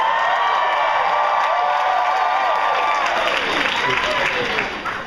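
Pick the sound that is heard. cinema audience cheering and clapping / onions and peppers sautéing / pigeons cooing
cinema audience cheering and clapping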